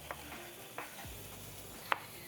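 Quiet scraping and clinking of a utensil against a pan while stir-frying chicken, with a soft background sizzle and a few sharp metallic taps.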